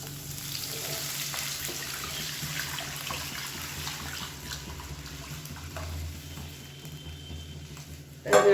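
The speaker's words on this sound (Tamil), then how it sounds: "அந்த தண்ணியை வந்து சேர்த்துக்கலாம்." Water poured into sautéed masala of turmeric, coriander and tomato for rasam in a cooking pot, a soft steady splashing and running-water hiss for several seconds, ending in a louder burst.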